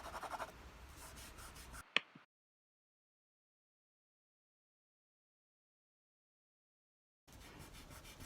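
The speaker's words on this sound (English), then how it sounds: "I'm using an eraser to take out some of this tone, to sort of smudge around the leaves" An eraser rubbing over paper to smudge a pencil drawing makes soft, close scratchy strokes in two short stretches, separated by a long silent gap.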